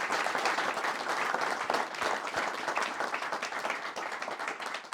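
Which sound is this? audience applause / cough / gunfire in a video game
audience applause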